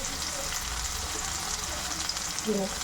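Tomatoes fry in a pan with turmeric and ground coriander-cumin added, giving a steady, close sizzle that holds evenly throughout, with a few brief scrapes near the end.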